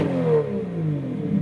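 A Toyota Yaris with a yellow wrap and a large rear spoiler revs its engine nearby, a rising and falling mechanical roar that stays loud and steady through the short burst, with no talking over it.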